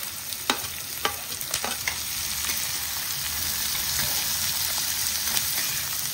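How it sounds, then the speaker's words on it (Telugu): Onions, green chillies and curry leaves fry in a pan with a steady, close hiss of sizzling oil, punctuated early on by a few sharp stirring taps. "ఇప్పుడు ఉల్లిపాయలు పచ్చిమిర్చి వేసేసుకున్నాం"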